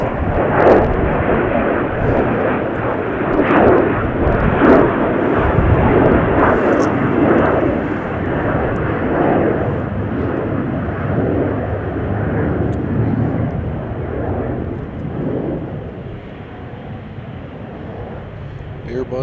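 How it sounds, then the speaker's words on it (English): A Viva Aerobus Airbus A320 lands at Chicago O'Hare, its jet engines producing a loud, continuous broadband roar that holds steady throughout, with people talking at times over the noise. "we have a Viva Aerobus coming in right now. Flight 632 coming in from Monterey."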